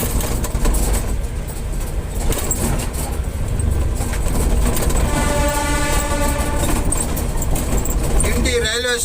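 A train rumbles and clatters past at close range at Guindy railway station in Chennai, with a long horn blast sounding partway through and voices heard faintly amid the noise.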